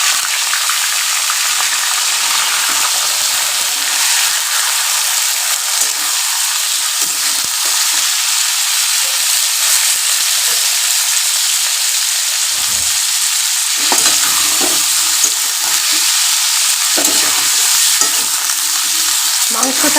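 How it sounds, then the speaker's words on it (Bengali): Chicken meat frying in hot oil for a Bengali chicken curry, a loud, dense and steady sizzle that holds throughout with occasional stirring scrapes and no talking. "মাংসটা এখন ভেজে নেব।"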